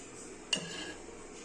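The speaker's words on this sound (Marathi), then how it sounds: "1 मोठा चमचा तूप घालायचं आहे." A metal spoon clinks once against a cooking pot as homemade ghee goes into boiling rice, a single sharp clink followed by quiet kitchen background.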